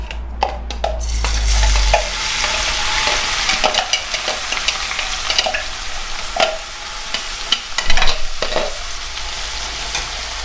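Spices for a homemade chilli tempering sizzle and crackle in very hot oil while a utensil stirs and scrapes the pan, loud and close, with no talking over it.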